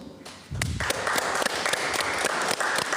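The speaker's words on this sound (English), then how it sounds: "Another round of digital applause." Audience applause at an online 2020 storytelling event, a sudden full burst of clapping starting after a brief quiet lead-in, then sustained at an even level with scattered sharper claps standing out.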